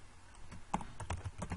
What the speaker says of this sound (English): Okay, so you keep typing this, and if you want to stop the typing